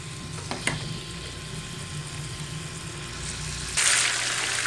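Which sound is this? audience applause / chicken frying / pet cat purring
chicken frying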